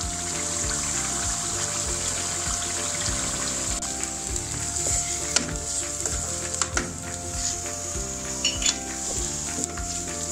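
Tomato paste and ginger-garlic paste sizzle steadily in a hot pan while Sindhi biryani cooks, a dense continuous frying crackle with occasional spatters and a faint tonal hum underneath.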